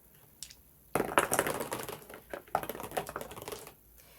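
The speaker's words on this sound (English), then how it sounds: "So we roll our 5 dice" Five dice rolled for a board game rattle and clatter together on a hard surface for about three seconds, close and distinct, after a faint initial tap.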